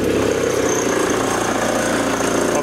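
A VW Camper with a swapped-in TDI diesel engine running steadily at idle with a rough, knocking rumble, loud and close with no talking.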